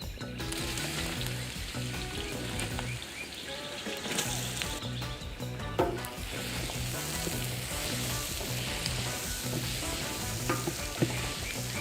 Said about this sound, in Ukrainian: Тушимо цибулю до золотистого кольору.